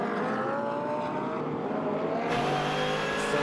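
Bentley and Audi GT race cars battle closely at the Red Bull Ring during a GT Masters race, a continuous high-pitched engine scream with steady tone shifts as they accelerate, heard on board.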